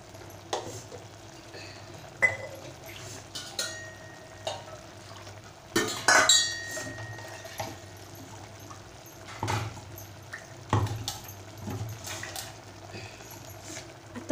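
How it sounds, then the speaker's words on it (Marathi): Water is poured into ground masala and then into a pot of Malvani chicken rassa with chicken bones, with stirring, splashing and utensil clinks in a quiet kitchen, louder bursts around the middle. "वाटणामध्ये मी पाणी घालून मी आता ह्याच्यात घालत आहे"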